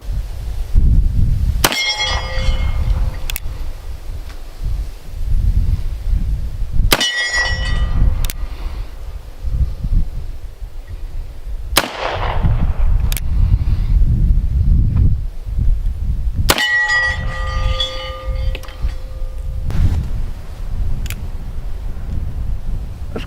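Single action revolver shots hit steel targets outdoors, each crack followed by a bright ringing clang that fades slowly. Four distinct impacts are spaced several seconds apart over a faint windy background.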